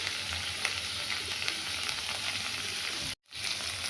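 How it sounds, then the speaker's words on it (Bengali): Tomatoes sizzling steadily in a hot pan over a raised gas flame while being stirred, a dense broadband frying hiss that drops out briefly near the end before resuming. "এবার টমেটো দেবো, গ্যাসটা বাড়িয়ে একটু, নাড়তে হবে ভালো করে একটু।"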